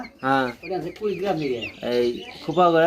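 Brahma chickens cluck and call on a poultry farm, several close, loud, rhythmic bursts of clucking one after another.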